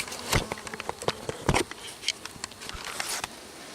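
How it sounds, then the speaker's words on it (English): Honeybees buzz around a feeder box during a package bee installation, several close insects darting past in short, irregular buzzes over a soft outdoor hush. "So the bees can come up and get in here"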